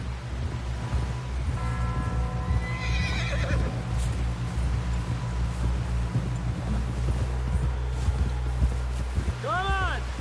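A horse in a video game whinnies clearly a couple of times, with hoof clip-clop and a low rumbling background throughout; no speech is heard.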